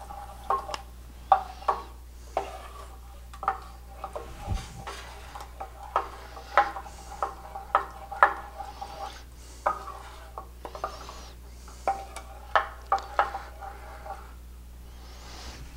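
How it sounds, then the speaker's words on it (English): Tomato sauce with spices being stirred in a pan over very low heat, with a run of light spoon clinks and scrapes against the pan over a faint background hum, close by and without speech. "Now that we've stirred it to blend the spices into that sauce"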